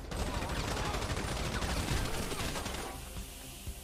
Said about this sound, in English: Dispatch 202, shots fired.